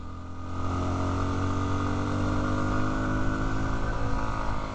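A BigDog motorcycle rides steadily along an Arizona road, its engine a sustained, even drone that holds close and loud throughout with no voices.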